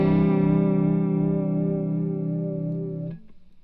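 A sustained guitar note through a Walrus Audio Julia pedal set to triangle waveform vibrato wavers with a steady, slightly angular pitch wobble, heavily effected and loud, then cuts off abruptly near the end.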